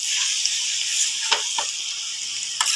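Grated carrot halwa sizzles as it fries in a pan, a steady hiss broken by a few sharp scraping stirs of a spoon.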